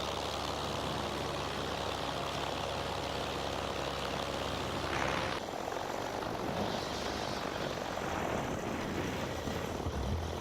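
Light aircraft flying over green ground near a beach, its engine drone steady and fairly loud, shifting slightly in pitch and strength as it passes, with wind rushing underneath.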